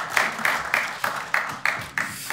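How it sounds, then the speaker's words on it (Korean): Clapping at a medical school centennial ceremony, coming as about seven evenly spaced, loud rhythmic claps in quick succession, nearby and without talk. "박수로 맞아주십시오."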